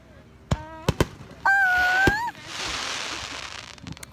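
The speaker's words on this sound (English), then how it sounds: "Oh my God! All of them. Italian fireworks." Italian fireworks at a July 4th celebration: a few sharp pops, a brief whistling tone, then a sustained spread of crackling from the display at moderate distance.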